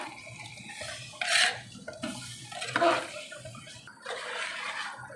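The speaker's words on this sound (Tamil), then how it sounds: "நல்லா சுற்றி சுற்றி கிண்டுனா தான் பிரியாணி நல்லாயிருக்கும்" Three kilos of chicken stirred round in biryani masala in a large pot, giving irregular scraping and sloshing bursts of the spoon against metal, fairly close with brief pauses between strokes.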